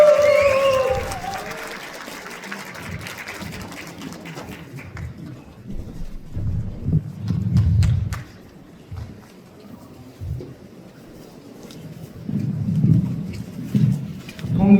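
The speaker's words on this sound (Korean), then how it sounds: "자, 함성도 함께 좀 질러주시기 바랍니다." A crowd at a lawmaker's report meeting in Cheongju claps and cheers in loud, rolling swells that rise and fade twice, with a host talking over the noise.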